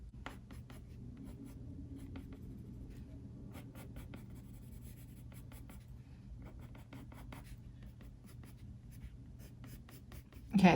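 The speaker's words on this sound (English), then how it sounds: "the way that the colored pencils draw on this is amazing" Colored pencils scratch and glide over cold-pressed watercolour sketchbook paper in a steady run of soft, close strokes, faint and dry, with a sharper knock near the end.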